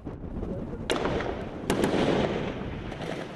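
Gunfire from fighters shooting inside a house during street fighting in Misratah, Libya: two sharp, loud cracks about a second apart that echo off walls over a steady rumble of background noise.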